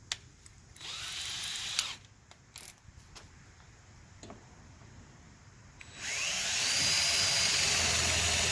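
Power drill boring a pilot hole while building pontoons on a jon boat: short bursts and a few sharp knocks, then a loud, steady high whine from the motor running continuously near the end.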